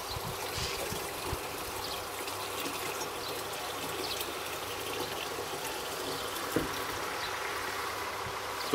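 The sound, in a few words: water being poured into a measuring container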